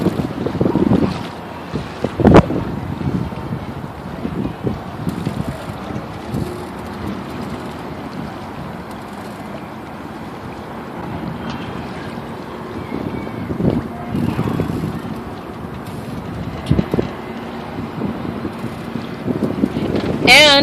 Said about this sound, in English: We're sailing out to the fuel dock